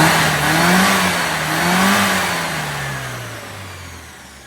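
A tuned classic Mini revs up and pulls away, its mid-pitched engine rising and falling through two strong surges. It then fades steadily as the car drives off into the distance.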